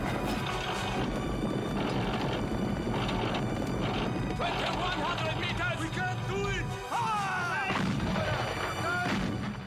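Film battle scene of the Australian Light Horse charging Turkish positions: loud, dense rumble of hoofbeats and artillery-like booms with horses whinnying, continuous throughout with shouting voices mixed in.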